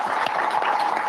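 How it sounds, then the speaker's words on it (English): Applause from an audience of company operators at a live driver meeting: a brief, dense, steady burst of many hands clapping together, with no pauses. "Give yourselves a round of applause."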